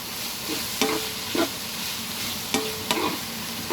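Cabbage stir-fried in a pan for bihon guisado gives a steady soft sizzle, broken by several sharp scraping clacks of a spatula against the pan at irregular intervals.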